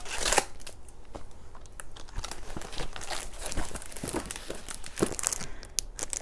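Plastic wrapping on a monthly magazine's free supplement package is opened, giving continuous close crinkling and rustling with sharp crackles throughout.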